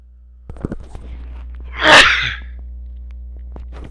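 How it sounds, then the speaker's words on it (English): One loud, close sneeze bursts out mid-clip, preceded by a few faint clicks and soft indoor noise and followed by quiet room hum. "Sorry about the sneezing."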